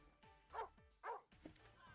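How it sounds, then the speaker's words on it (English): Dog barking in Twisted Wonderland, two clear barks about half a second apart over quiet game background, faint overall, with a short voiced sound after. "Doggy!"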